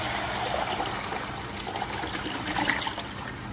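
Water poured out of a cooking pot makes a continuous close splashing gush and trickle, steady throughout with slight surges.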